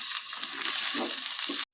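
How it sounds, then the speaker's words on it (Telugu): Ginger garlic paste fries with prawns in a hot pan, giving a loud, close, continuous sizzle with soft stirring scrapes that stops abruptly after under two seconds. "ఇప్పుడు దీంట్లో అల్లం వెల్లుల్లి పేస్ట్ వేసుకుందాం. వేసుకొని బాగా కలుపుకుందాం."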